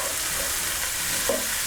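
Chopped onion frying in a pan with curry powder and methi leaves for a leftover turkey curry, a steady close sizzle with a light stir near the end, no voices.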